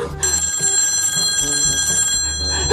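An old-style telephone bell rings loudly and continuously, a bright metallic trill sustained for a few seconds.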